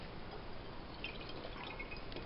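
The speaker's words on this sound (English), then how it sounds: "we have already measured out 90 mils of DI water, and so I'm going to go ahead and put that in there as well" Deionized water being poured into a container for a titration, a steady, soft liquid trickle and splash running throughout at close range with no talking.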